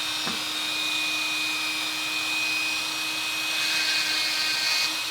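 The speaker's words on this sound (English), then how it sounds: "I'm going to fire up the Dremel on low speed" A Dremel rotary tool running on low speed, grinding to enlarge and reshape holes in a thermal detonator prop, gives a steady, continuous high whine with a constant hum beneath, close and even throughout, no talking.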